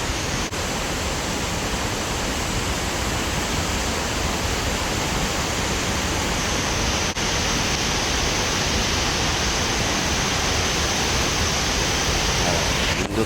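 Liwagwag Falls, a waterfall, as a loud, steady broadband rush of falling water that continues unbroken, close by and filling the whole scene.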